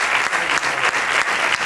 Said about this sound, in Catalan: Un aplaudiment, sisplau, per ella, per la Verónica.